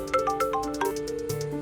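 A phone ringtone plays a short, bright melody of quick electronic notes, moderately quiet, with no voices.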